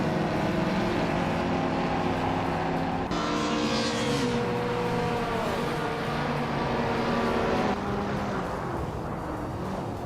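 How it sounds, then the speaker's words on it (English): A 1993 Porsche 928 GTS race car drives in a race from pole position, its engine a steady, loud, continuous drone whose pitch rises and falls with gear changes for the whole stretch. "Maya is driving 1993 Porsche 928 GTS, starting from the pole position"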